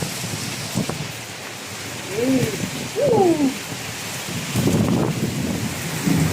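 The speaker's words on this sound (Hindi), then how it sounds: "अब कितना गरज रहा है।" Thunder rumbles during rain, with heavy steady rainfall throughout and deep rolling thunder surging in waves, while faint hooting calls sound in between.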